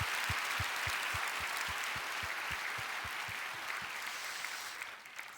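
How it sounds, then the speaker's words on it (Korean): Congregation applause during a church prayer service, a steady, fairly faint wash of clapping under regular low thumps, fading toward the end. "우리 사랑의 마음을 담아 큰 박수로 축복하도록 하겠습니다."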